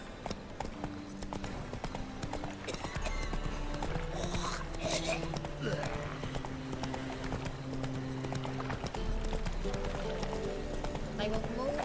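Hooves clip-clop rapidly as a horse gallops in The Witcher 3: Wild Hunt, a steady driving rhythm set under game music with voices talking over it.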